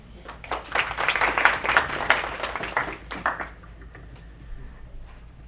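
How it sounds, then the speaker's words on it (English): Audience applause follows a talk at a community gathering: a short burst of scattered clapping, fairly close, that fades out after about three seconds. "I'm sure everyone would love to applaud you for this."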